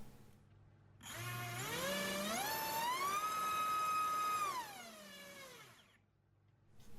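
Racerstar 2205 2300KV brushless motors with 3-leaf props on a thrust test, a loud whining tone that spools up, holds high and steady for a few seconds, then winds down to quiet.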